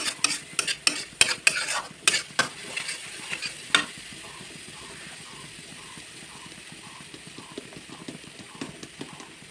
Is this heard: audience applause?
no